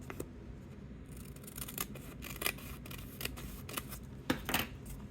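Scissors cutting paper from a cut-up paper bag during junk journal crafting: a quiet run of irregular snips and crisp clicks, close up, with no talking.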